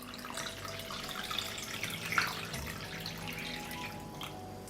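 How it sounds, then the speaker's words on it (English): Tap water pours into a large pot holding glass jars set on a cloth for pasteurizing tomato salad, a quiet, steady running splash with faint drips heard close by. "I pour water up to the height of the lid."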